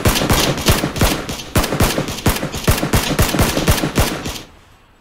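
Rapid bursts of automatic gunfire from a gun in PUBG, fired a little too quickly, a dense loud rattle of closely spaced shots running several seconds before cutting off, with a brief voice over the shots.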